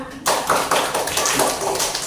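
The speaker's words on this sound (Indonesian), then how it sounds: "Tepuk tangan dulu untuk semuanya." Applause from an audience in a classroom observation session, starting abruptly and continuing as a steady close patter of hand claps.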